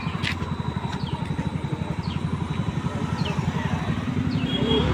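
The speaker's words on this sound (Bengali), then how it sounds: "ওরা পেছনে বাইকে আসছে আর আমরা সামনে" Motorcycle engines running close by on a road to a crowded Durga Puja fair, a steady pulsing putter with a slight rise toward the end.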